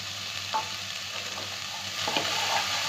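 Carrots and beans, added to a hot pan with green chillies, sizzle softly in oil while a spoon stirs them, giving a steady low frying hiss with a few scraping strokes that grow busier near the end.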